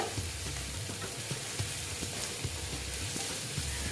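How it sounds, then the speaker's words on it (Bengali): Ginger and onion paste frying in oil for a spicy boal fish curry, a steady close sizzle with soft periodic stirring knocks against the pan, no voices. "ভালো মতন ভেজে নিচ্ছি আদা আর পেঁয়াজের একটু কাঁচা গন্ধটা যেন চলে যায়"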